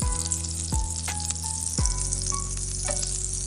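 Ginger-garlic paste with Kashmiri chili and coriander powder frying on a slow flame for butter chicken: a steady, loud sizzle broken by a few dull knocks of a spoon against the pan, heard alone.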